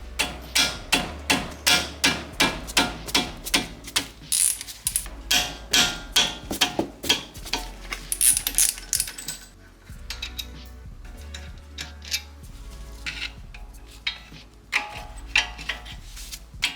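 A socket wrench loosens the 14 mm caliper slide pin bolts on a 2018 Honda Civic Si, giving a long run of rapid, close ratcheting clicks in steady rhythmic bursts, with a brief pause before the clicking resumes.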